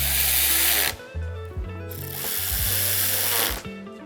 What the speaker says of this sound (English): I'm gonna tighten the two 7 mil hose clamps.